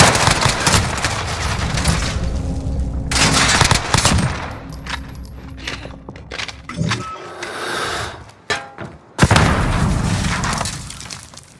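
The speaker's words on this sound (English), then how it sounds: "Cruise missile, go for launch." A cruise missile strike in the video game Call of Duty: Modern Warfare: loud booming blasts and crackling gunfire-like bursts come in heavy waves with brief quieter gaps, one sharp impact late on, and no talk.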